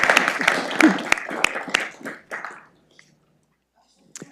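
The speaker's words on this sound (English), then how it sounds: "let's give Kayla a big round of applause" A crowd applauds at a city council meeting, a dense patter of many hands clapping loudly for about two and a half seconds before it thins out and dies away into near silence.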